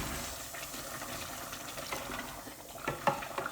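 Water poured into a pot of oil rice with salted beef, a steady broadband splashing trickle at close range that runs throughout, with a few sharper splashes near the end.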